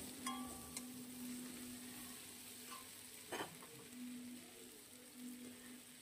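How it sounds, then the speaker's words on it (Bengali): Yardlong beans being stirred with spices in a pan give a quiet, steady sizzle with occasional scraping and clinking of a utensil against the pan, no voices. "সুন্দর করে নাড়াচাড়া করে নেব।"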